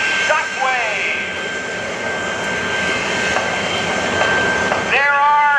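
The Shockwave jet-powered semi-tractor, fitted with three jet engines, roars loudly and steadily at an outdoor motorsport show, with the thrust surging near the end while an announcer's voice carries over it.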